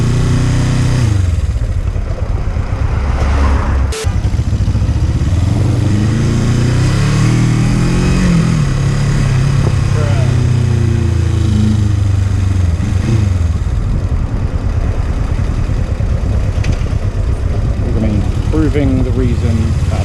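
Suzuki GS500E motorcycle riding through traffic, a loud close engine drone that rises and falls with throttle changes, continuous wind rush throughout and a rider speaking over the engine.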